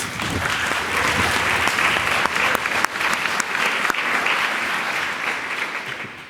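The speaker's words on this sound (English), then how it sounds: "round of applause, please" An audience at PyCon UK 2019 lightning talks applauds, dense, loud clapping sustained for several seconds with no talk over it.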